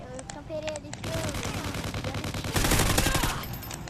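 Rapid video game gunfire during an online free-for-all match, bursts of shots and automatic fire in quick succession, growing louder and denser near the end, with a player's voice faintly underneath.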